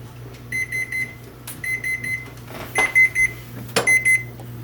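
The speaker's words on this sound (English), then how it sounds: "And the timer's up." A kitchen timer beeps in repeated groups of short bright tones, four bursts per cycle, ringing out clearly over a steady low hum while homemade mozzarella cooks.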